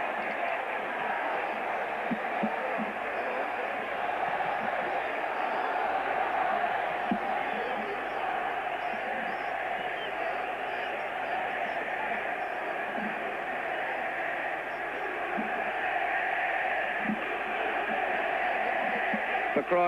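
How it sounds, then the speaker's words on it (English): A large football stadium crowd at a Romania versus Northern Ireland World Cup qualifier roars in a steady, broad wash of noise that swells slightly, with a commentator's voice running over it. "The crowd now rising behind Romania"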